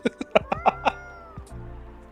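A cat, apparently a stray wearing a collar, gives a quick run of about six short meows close by, then falls quiet apart from faint background hum.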